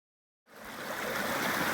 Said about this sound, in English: water source. I think this is the Rattle River.